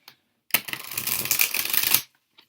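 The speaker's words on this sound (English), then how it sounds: "I'm also going to shuffle the cards as well." A single quick riffle of tarot cards, a dense papery flutter lasting about a second and a half, close and fairly loud against silence.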